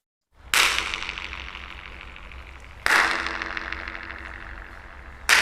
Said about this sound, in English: it's a really cool example of flutter echo